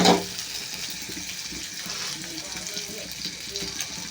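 Prawns and green chilies fry in a pan, a continuous, moderately loud sizzle with a faint clatter at the start and soft background noise throughout, with no voices.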